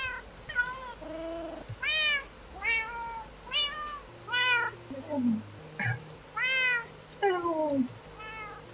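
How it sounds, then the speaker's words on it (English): A cat in the Minecraft FTB Skies 2 modpack meows repeatedly, about a dozen close, clear meows in an uneven rhythm over a faint low background, with no talking. "I'm going to summon another cat because I want to start breeding and get myself a tuxedo cat"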